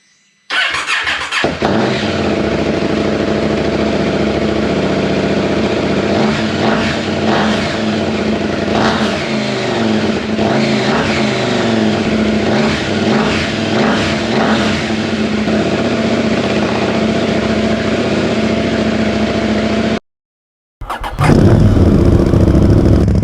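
A KTM Duke 790 motorcycle with a decatted, ceramic-coated exhaust fires up and revs loudly and steadily for about twenty seconds, cuts out briefly, then roars back to life.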